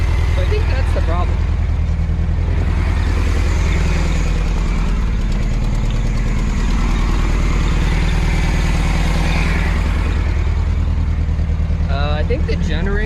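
A 1970 Volkswagen Bug engine, abandoned for 20 years, runs loud and close with a steady rough idle throughout, while someone talks over it.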